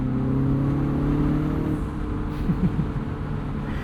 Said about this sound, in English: you have all of that turbo blow off as well, which obviously with the top down you can hear